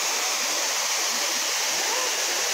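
Water pours and crashes continuously in a dense, steady roar, Dampalit Falls heard close up with no other sounds standing out.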